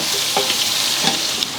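Garlic, mustard seeds and spices sizzling in hot oil with a steady, close crackling hiss and a few stirring scrapes, no voices.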